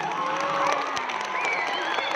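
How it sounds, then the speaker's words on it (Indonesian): Crowd noise at a school ceremony for young madrasah pupils, steady broadband clapping and cheering with children's voices mixed in, fairly distant and continuous throughout. "Tepuk tangan untuk anak-anak MI."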